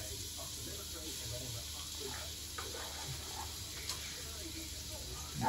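Onions frying in oil in a pan at a cooking workshop, a faint continuous crackling sizzle lasting throughout, quiet and steady while people chat nearby.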